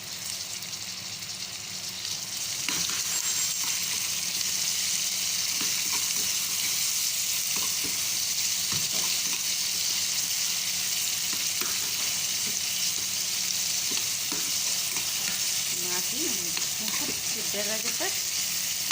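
Cabbage and tomato fry steadily in a hot pan with a constant loud sizzle, broken by occasional stirring scrapes and clicks throughout.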